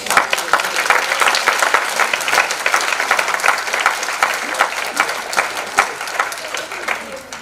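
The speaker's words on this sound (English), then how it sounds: "Give all the honorees a round of applause." Applause at an honorees' gathering, a steady wash of many hands clapping with sharp individual claps standing out, sustained and close throughout, with some voices mixed in.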